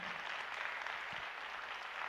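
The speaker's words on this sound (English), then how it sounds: "I want you to clap for that, okay?" An audience claps together after being asked to, a dense, steady patter of applause heard faintly and at a distance, with no talk over it.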